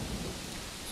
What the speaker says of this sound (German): Ui, Gewitter.